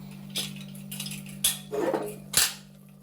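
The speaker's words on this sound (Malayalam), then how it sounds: "നമുക്ക് കുക്കറിൻ്റെ മൂടി തുറന്നു നോക്കാം" A pressure cooker lid is opened in a home kitchen, giving a few sharp metallic clanks and scrapes over a steady low electrical hum, with no talking.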